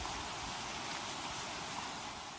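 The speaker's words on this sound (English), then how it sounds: "It's raining." Steady rain falls among tropical trees beside a muddy river, a dense, even hiss of drops with no distinct gaps, continuous throughout.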